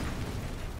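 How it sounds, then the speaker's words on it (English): Explosions in the Enshrouded video game, a continuous dense rumbling blast filling the whole moment at steady loudness, then cutting off abruptly at the end. "More explosions."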